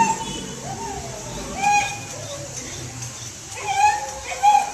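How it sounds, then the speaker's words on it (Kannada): A tied-up dog whimpers and gives a few short yelps in the rain, with high whining cries rising in bursts over a steady wet background hiss. "ಅದು ನಾಯಿ ನೋಡಿ ಕಟ್ಟಾಕ್ಬಿಟ್ಟವ್ರ, ಒದ್ಲಾಡ್ತೈತಲ್ಲಿ ಮಳೆದಲ್ಲಿ"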